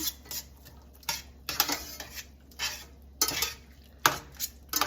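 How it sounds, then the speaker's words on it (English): Onions being stirred into browning ground beef in a pan, with repeated scraping clatter of a utensil against the pan in short bursts, a faint low sizzle beneath, no talking. "So I'm gonna cook the onions with the burger, which I don't usually do"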